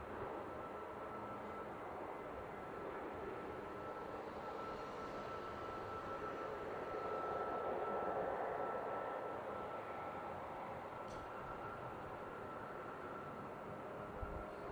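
Airliner at Seattle airport, a steady broadband jet roar holding throughout and swelling slightly in the middle, heard from a distance with no talk.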